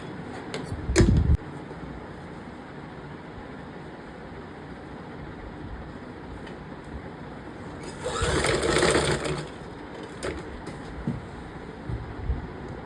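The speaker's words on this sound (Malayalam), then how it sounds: "നമ്മൾ ആദ്യം ക്യാൻവാസ് ആണ് കേട്ടോ സ്റ്റിച്ച് ചെയ്തെടുക്കാൻ വേണ്ടി പോകുന്നത്" A sewing machine stitches canvas for umbrella pants in a low steady hum, with a short loud thump near the start and a louder whirring run of stitching lasting about a second and a half midway.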